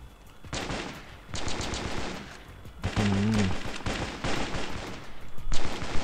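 Rapid automatic gunfire in the mobile FPS game Danger Close on a war-style map, loud bursts of shots separated by short pauses, with sirens and battle noise around.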